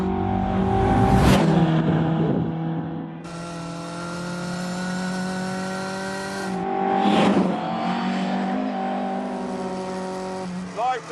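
A Mark 1 Lotus Cortina, the first fast Ford, laps Cadwell Park on a sunny day in The Grand Tour game, its engine buzzing hard through shifting revs, with two loud rushing passes and squealing tyres.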